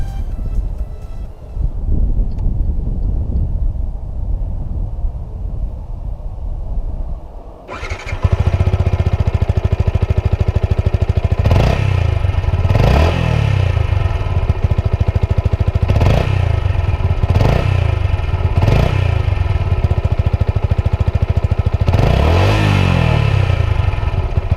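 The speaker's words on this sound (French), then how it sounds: "Écoutons à présent la sonorisation de ce pot d'échappement d'origine." A stock-exhaust Yamaha MT 125 motorcycle fires up after a quiet stretch, then idles loudly and close with several sharp throttle revs rising and falling.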